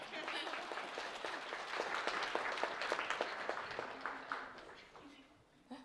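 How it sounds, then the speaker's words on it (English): Audience applause at a panel on feminist ecologies and land stewardship, a moderate crowd clapping steadily for several seconds before thinning out, with voices murmuring underneath. "A round of applause."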